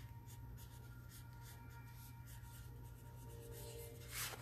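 A pen writing on a transfer sheet in quick, light, scratchy strokes, faint and close, ending in a slightly louder rub.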